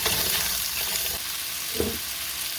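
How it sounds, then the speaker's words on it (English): Vegetables and seasoning frying in a pan of reused cooking oil for an oriental-style chicken dish, giving a steady close sizzle with a brief louder spatter near the end. "I'm going to cook up my vegetables and seasoning in here"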